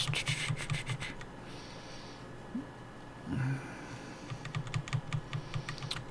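Someone typing DOS commands on a laptop keyboard nearby, quick clusters of soft key clicks, then a pause with a brief rustle and a breath, then another run of rapid keystrokes.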